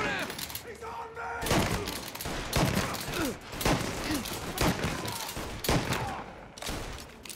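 Sustained gunfire from a shootout in Mafia Definitive Edition, a diamond heist scene, with repeated sharp bursts spread across several seconds amid game noise and voices.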